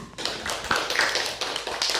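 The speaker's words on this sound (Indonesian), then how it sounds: "Tepuk tangan untuk kelompok 3." Applause in a classroom for a group of students, close and brisk, with many hands clapping in a dense patter for about two seconds.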